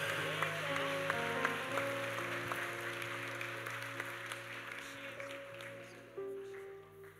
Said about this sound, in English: Let's appreciate him with a hand clap as he comes.